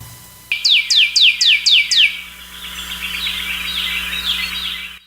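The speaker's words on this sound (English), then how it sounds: "Yes, it's a blackbird." A grackle, a blackbird, gives a quick series of six loud, sharp, descending call notes, then a softer, continuous chattering warble that carries on to the end, close and clear with no talking.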